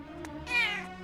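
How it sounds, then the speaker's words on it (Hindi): A short, clear meow from a nearby cat, preceded by a faint soft chirp, with no talking. "सच में बहुत ही बदमाश बिल्ली हो।"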